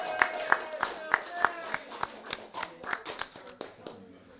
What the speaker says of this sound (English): Can we get a wee round of applause?